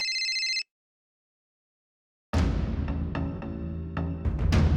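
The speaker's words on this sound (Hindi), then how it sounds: "हेलो सर, डॉक्टर उषा का फोन" A short electronic phone ring sounds briefly, followed by silence, then a burst of loud clattering noise.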